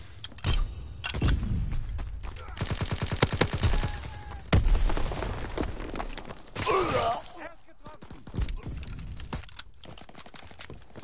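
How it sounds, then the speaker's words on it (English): A fighter plane strafes a target in a video game, with rapid bursts of close, loud gunfire and sharp impacts coming in uneven volleys. Voices speak between and under the shots. "Fighter pilot inbound, strafing the target."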